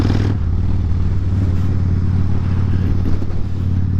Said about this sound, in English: the exhaust on this thing is so loud, but it sounds good